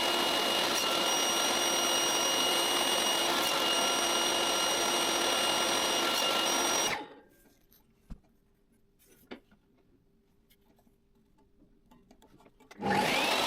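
A power saw trims rosewood and purpleheart side pieces for a wooden serving tray, cutting loudly and steadily for several seconds before stopping abruptly. A near-silent stretch with a couple of small knocks follows, then the saw starts again.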